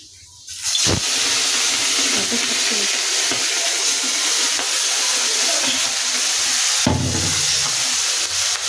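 Fish and chopped potatoes fry in hot oil, a loud, steady hiss that swells in abruptly after a quiet start and runs continuously, broken briefly by a couple of clanks.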